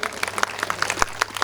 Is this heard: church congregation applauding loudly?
yes